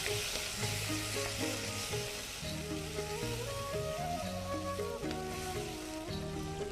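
Blanched tomatoes hit a hot frying pan while making pizza topping, giving a continuous loud sizzle and frying hiss with stirring, close and steady for several seconds.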